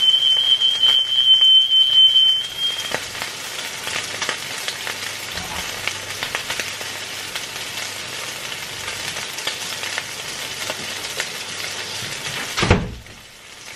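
A smoke alarm beeps in a rapid, shrill, steady pattern for a few seconds over peppers sizzling in a pan in a home kitchen while chicken tikka masala is cooked. Then the frying carries on alone with crackles and a clatter near the end.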